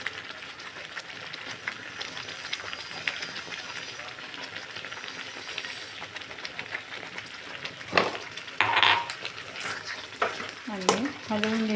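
Puran poli filling being stirred and cooking in a pot, a steady soft sizzle and scraping throughout with a few louder spoon scrapes and clinks toward the end.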